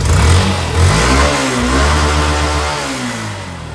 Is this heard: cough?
no